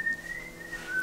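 A man whistles a steady, sustained tune alone, faint and close, in a home kitchen.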